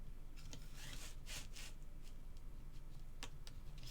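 Paper being cut for a Graphic 45 mini album, soft rubbing swishes and a few brief sharp strokes, close and quiet, with no voices.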